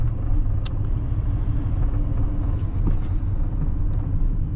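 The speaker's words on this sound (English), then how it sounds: "The engine isn't too excessively loud in here, at low RPMs anyway." A steady low engine rumble heard from inside a 1994 Dodge Ram 1500 pickup, smooth and constant at low revs, with faint road and cabin noise.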